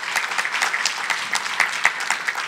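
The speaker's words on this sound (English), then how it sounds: "Please give him a round of applause." An audience at a Los Angeles County HIV Commission panel gives a round of applause for a commissioner, with steady, dense clapping from a modest crowd that continues throughout.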